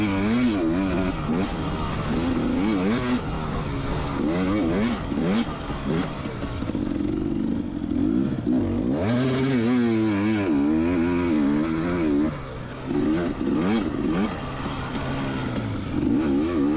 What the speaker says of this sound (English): 2019 KTM 250XC with a carburetor, ran great, always does.